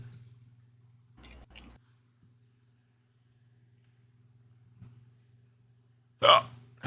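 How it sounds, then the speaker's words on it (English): A person hiccups a few times, short sharp bursts separated by pauses, close to the microphone over a low steady electrical hum. "Hiccups."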